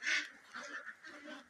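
Ducks quacking close by, a few honking, nasal calls in quick succession over about a second and a half, with no other sounds around them.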